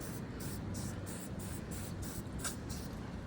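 Cleaner sprayed onto a 30-year-old exhaust tip comes as a quick series of about eight short, evenly spaced hissing bursts, fairly quiet and alone.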